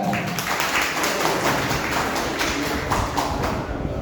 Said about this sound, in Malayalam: നമുക്ക് നല്ലൊരു കൈയടി സെലീന ബീവിക്ക് നൽകാവുന്നതാണ്